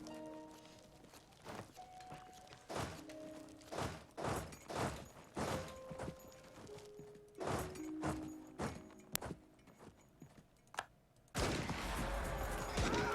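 Booming bursts of Europa Universalis IV battle gunfire and cannon blasts, repeated irregularly and loud, with a dense roar of noise rising near the end.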